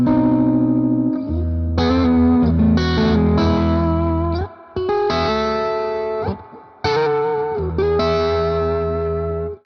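A Supro electric guitar is played fingerstyle, with plucked notes and chords ringing out through a distorted, reverb-washed amp tone; phrases sustain in long swells, broken by a few brief pauses.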